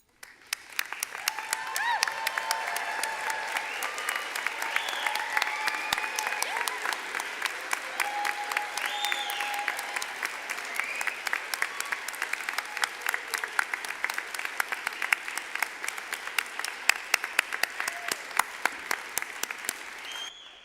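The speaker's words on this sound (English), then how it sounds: "share in a roaring applause" A graduation audience at a UW-Stout fall commencement breaks into sustained applause, steady dense clapping filling the hall for about twenty seconds without a break.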